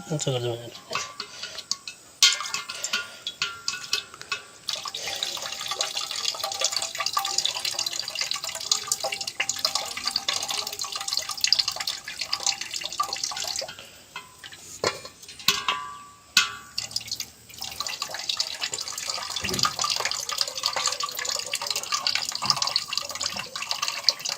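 Water splashes and gurgles as it is poured into a gas cylinder, with uneven sloshing and metallic knocks, while people talk over it.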